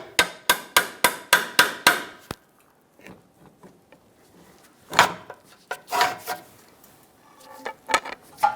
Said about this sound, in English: I'm going to tap the pry bar up with a hammer